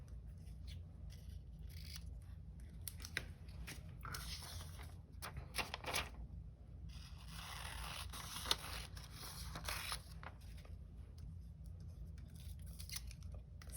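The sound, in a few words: scissors cutting paper strips for a collage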